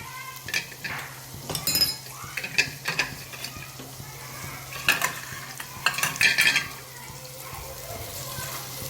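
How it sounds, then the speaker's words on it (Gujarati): A spoon stirs red chili, tomato, green chili, garlic and onion in a pan, with repeated scraping clinks and metal knocks over a low sizzle, close and fairly busy, with no clear talk. "સરસ બધું આપણે મિક્સ કરી લઈશું"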